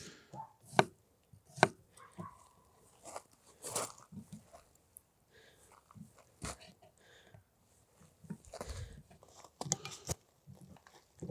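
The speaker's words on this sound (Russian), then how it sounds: "Помидоры нарезаю вот такими дольками, довольно-таки крупненькими." A knife slices through tomatoes on a cutting board, with irregular crisp cuts and soft thuds at a close, moderate level.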